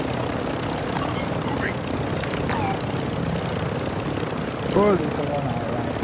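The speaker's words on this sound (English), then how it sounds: "There's another helicopter there as well." Helicopter rotor thrum in the Call of Duty DMZ video game, a steady low drone running throughout with a brief voice speaking over it near the end.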